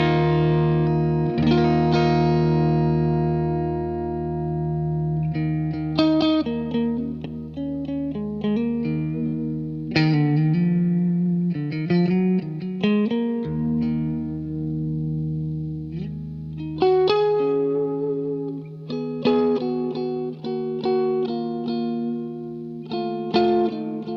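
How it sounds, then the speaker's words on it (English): Electric guitar plays chords and melodic runs through wide stereo amps (Walrus Audio ACS1 amp simulator), with a touch of reverb giving each note a soft, spacious tail. "Now with a bit of reverb as well."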